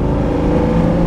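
A 1972 De Tomaso Pantera with a 5.8-litre V8 idling nervously, a loud, close, lumpy burble with an uneven pulsing rhythm over a brief moment, heard alone without talk.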